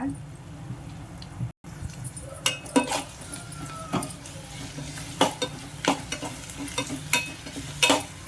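Green chili paste with garlic and cumin sizzles in a pan and is stirred, with repeated scraping and clinking of a utensil against the pan over a continuous frying hiss, close and fairly loud, with no speech.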